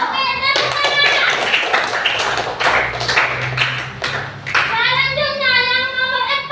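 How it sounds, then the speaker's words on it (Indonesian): Schoolchildren in a classroom clap together in a burst of close, uneven hand claps with some tapping, and young voices chatter and sing out over it near the end. "Oke, tepuk tangan."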